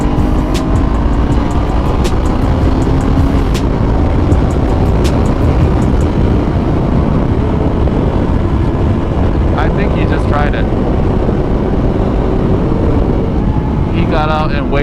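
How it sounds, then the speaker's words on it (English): 2017 Honda CBR500R motorcycle accelerating hard, its steady loud engine roar rising over wind rush at close range for the whole stretch. "wasted half a tank of gas on that acceleration"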